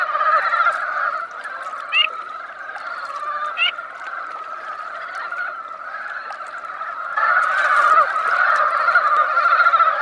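Ducks in Asia's Far East call with honking, goose-like quacks over a continuous chorus of croaking frogs, the calling growing louder toward the end.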